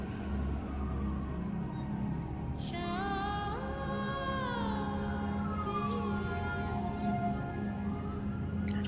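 An ambulance siren rises and falls in the distance over a steady low rumble of city traffic.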